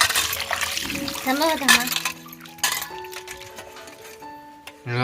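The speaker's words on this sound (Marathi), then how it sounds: "आता पाण्याने ना स्वच्छ करून घेतो" Water splashes and swirls with light clinks as peeled prawns are rinsed in a bowl, with brief voices partway through.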